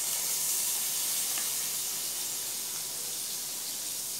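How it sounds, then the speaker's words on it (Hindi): Butter melting in a hot kadai, a soft steady sizzling hiss close by, even and unbroken with no talk. "और मक्खन को पिघलने देंगे अच्छे से"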